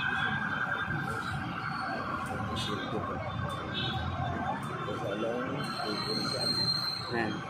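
Ambulance siren passing a fire scene along JP Rizal in Makati amid thick smoke, a wailing tone running steadily through the clip under broad crowd and street noise with voices.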